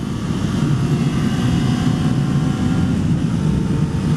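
A small 250cc twin-cylinder motorcycle engine while riding, a loud continuous rumbling drone with wind roar, held at a steady pitch without pauses.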